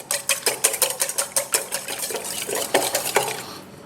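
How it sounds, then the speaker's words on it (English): Egg being beaten in a bowl, a quick rhythmic series of clinking whisk or fork strokes against the sides, fairly close and even-paced. "For our wet ingredients, we start by beating our egg a bit."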